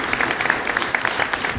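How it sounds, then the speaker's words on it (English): A city meeting audience gives a short, dense round of applause, a continuous patter of many hands in a room with no speech over it. "So let's give Andy a round of applause for that."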